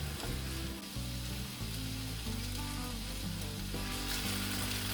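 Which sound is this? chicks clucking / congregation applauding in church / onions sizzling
onions sizzling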